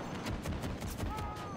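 Short bursts of vehicle-mounted gun fire from the LATV4 in the video game Battlefield 2042, tapped out in quick clusters close up over a steady in-game background rumble.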